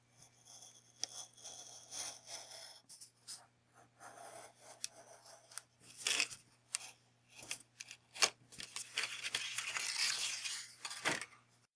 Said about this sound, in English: Be very careful when you're cutting. Only use new sharp blades in your X-Acto knife.